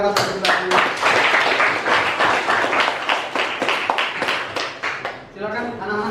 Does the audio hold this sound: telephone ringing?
no